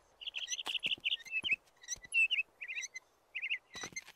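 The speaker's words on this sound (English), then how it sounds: "I didn't know you were a songbird." Cartoon songbird, a bluebird in a horse-ranch animated series, sings a quick run of bright warbling chirps and trills, close and clear, with a few sharp clicks between phrases and no talking.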